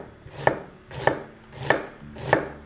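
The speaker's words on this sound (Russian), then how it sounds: "Теперь нарезаем мелко одну луковицу или половинку большой луковицы." Knife finely chopping an onion on a cutting board, four evenly spaced crisp chops about half a second apart, close and clear with no talking.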